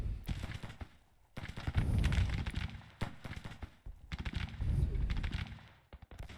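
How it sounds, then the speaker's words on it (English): Musket volleys from a detachment in the Civil War strategy game Grand Tactician, with repeated loud crackling bursts of rifle fire and rolling gunfire in two heavy waves, some distant thuds between, no voices. "Let's get this detachment firing on them."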